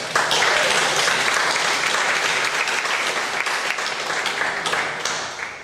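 Steady applause from a lecture audience honoring military veterans in the crowd, a dense, sustained clapping that holds for several seconds and then tapers off slightly at the end.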